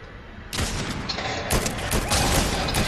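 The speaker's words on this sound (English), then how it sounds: "I know what I was shooting at" Video game gunfire crackles in dense, rapid bursts, starting after a quiet half second and surging again around the middle and end, loud and close with no talk over it.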